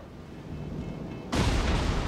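Battleship Vladivostok's main guns fire in World of Warships, a single sudden heavy boom that cuts in over low background rumble and holds as a loud roaring blast.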